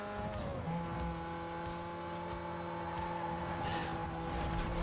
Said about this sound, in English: That's the Audi TT making that noise.